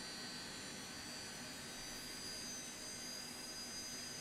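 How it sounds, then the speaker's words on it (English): Lockheed JetStar jet engines roaring steadily and loudly inside Microsoft Flight Simulator, a continuous broadband whine with no talk over it. "Very loud airplane."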